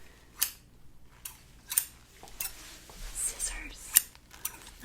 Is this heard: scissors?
yes